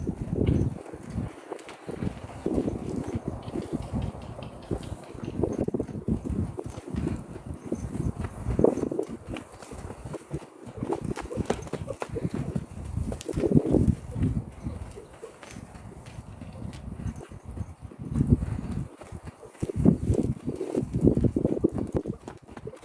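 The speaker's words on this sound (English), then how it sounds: "Such a pretty little horse, the way he carries himself." A small horse's hooves clip-clop in steady, uneven walking steps during training exercise, moderately near, with birds faintly in the background and occasional talk.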